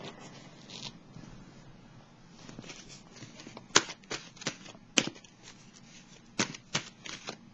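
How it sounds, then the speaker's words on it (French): Oracle cards from a soul-intuition deck are shuffled and drawn, giving quiet papery riffling broken by several sharp, crisp snaps and flicks. "je vais piger une carte de l'oracle de l'âme intuitive"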